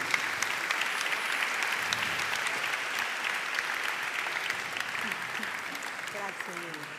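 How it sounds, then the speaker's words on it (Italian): An audience at an Italian women's award ceremony gives sustained, even applause, dense and continuous, with faint voices emerging near the end. "Un applauso."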